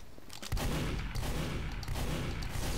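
Rapid gunfire in Team Fortress 2, played as the Scout, with dense repeated shots crackling over a heavy low rumble, loud and continuous from about half a second in.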